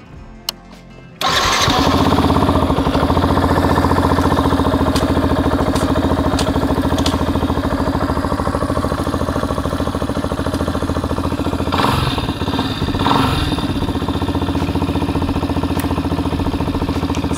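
Yamaha FZS V3 motorcycle engine cranks and catches after a brief quiet moment, then settles into a loud, steady idle close by.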